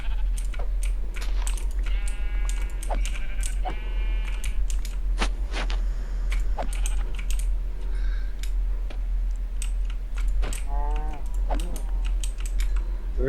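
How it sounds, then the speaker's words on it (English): Sheep bleat a few times in the Minecraft video game, over steady computer keyboard typing and mouse clicks, with a constant low hum throughout. "Richard, I found sheep"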